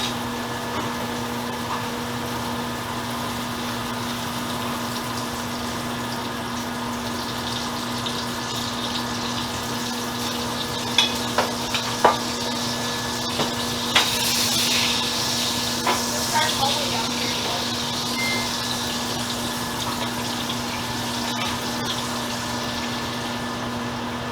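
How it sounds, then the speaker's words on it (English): Steak frying in a pan with butter and a little oil gives a steady, even sizzle throughout, with a low hum beneath and a few small pops and clicks in the middle. "I'm gonna start frying my steak"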